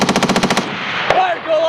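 A Marine Corps machine gun section at 29 Palms fires a short burst of about seven rapid, loud, close shots, followed by ringing echo and a shouted voice.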